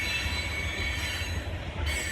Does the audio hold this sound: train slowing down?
yes